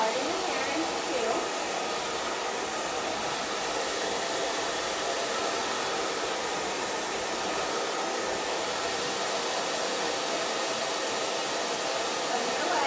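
A hair dryer roars steadily and close while a paddle brush works through sections of hair at the roots, a continuous loud airy blast with no pauses.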